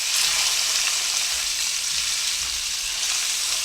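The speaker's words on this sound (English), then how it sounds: "browning on it and a sear, which will lock in the delicious flavors of the roast" A beef roast searing in a hot pan gives a steady, close, dense sizzle and frying hiss that stays even throughout, with no talking.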